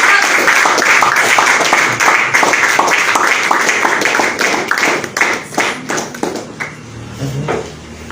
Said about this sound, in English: So let's give a round of applause to our leaders.